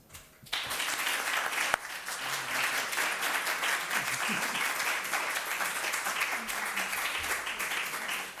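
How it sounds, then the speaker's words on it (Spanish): A roundtable audience applauds the expert panelists of a discussion on the Venezuelan crisis, the clapping bursting in abruptly after a brief quiet moment and holding as a steady, dense crowd patter to the end. "Yo quiero pedir un aplauso para ellos."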